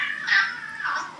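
Two house cats squabble over a kitchen chair, letting out a high, drawn-out whining yowl that rises, dips and rises again, close by.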